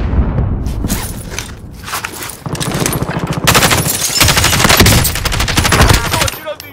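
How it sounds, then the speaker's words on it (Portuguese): Call of Duty: Warzone gunfire: rapid automatic bursts and scattered single shots crackle loudly and almost continuously, with a few heavier booms mixed in and faint game chatter underneath. "Estão atirando em mim."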